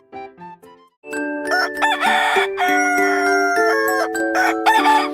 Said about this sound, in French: Le coq chante pour commencer la journée.